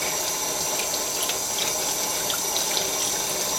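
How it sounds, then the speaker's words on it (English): Water from a kitchen sink tap runs steadily over an egg being rinsed, a constant close splashing hiss with no voices. "Rinse it in the sink."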